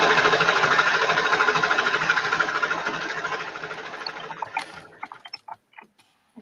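A serger runs at speed trimming fabric, a dense steady whir that slows and stops, followed by a few soft clicks and handling taps.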